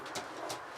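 A Stichelbaut racing pigeon coos softly in a loft, two brief, gentle pulses set against quiet room ambience.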